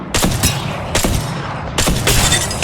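Loud gunfire from the video game Apex Legends comes in three sharp bursts of rapid shots, each a cluster of punchy cracks with short gaps between.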